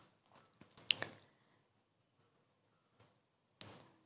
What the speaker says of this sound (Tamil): சேர்த்துட்டு நல்லா கலந்து விட்டுடலாம்.